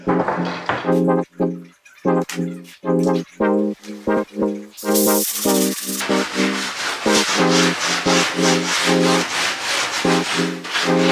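Taped-together wooden blocks are sanded or planed by hand in a series of loud, close, rhythmic back-and-forth rubbing strokes that speed up into a quicker steady cadence.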